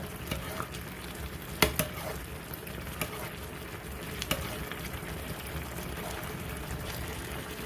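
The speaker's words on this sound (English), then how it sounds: "it's bubbling now" Korean spicy fish stew with tofu, cooked with a Filipino twist, bubbles and simmers in a pot as a steady, soft hiss of boiling broth, broken by a few sharp clinks and taps near the start.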